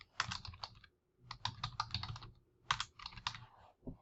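Keys clatter on a computer keyboard in quick bursts of typing separated by short pauses, crisp and close but fairly quiet, with no voices.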